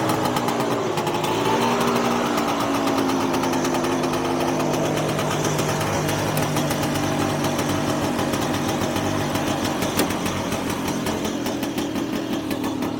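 A Trabant engine fitted with a 12-volt electronic ignition runs at a Trabant meet in Washington D.C., giving a steady, loud, buzzing drone close by for the whole stretch, with no talking.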